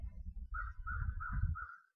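A crow calling outdoors, one drawn-out cawing call that runs for about a second over a low background rumble, moderately loud.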